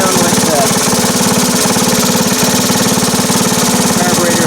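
A 1978 Indian moped's small engine with its original carburetor, freshly adjusted, runs loud and close with a constant rapid buzzing putter throughout.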